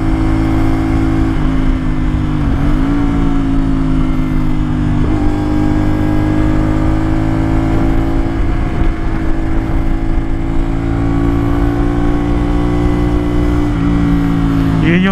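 A CFMOTO 450SR sport motorcycle engine holds a loud, steady high-rpm drone near 7,000 to 8,000 RPM, with brief dips and re-revs throughout and continuous throttle roar.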